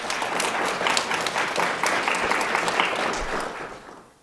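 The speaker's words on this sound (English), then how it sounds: "So give yourself a big round of applause." An award reception audience breaks into a full round of applause, dense clapping holding steady before thinning and fading out toward the end.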